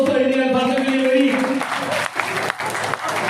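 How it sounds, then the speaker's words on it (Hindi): An audience at an awards and welcome gathering breaks into strong applause, which swells over a held voice and then keeps going as broad, dense clapping. "जोरदार तालियां दोस्तों इन अल्फाजों के लिए मेरी"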